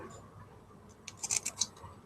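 Scissors trimming the edges of handmade paper Christmas tags, a few quick crisp snips clustered together after a quiet start, close and fairly faint.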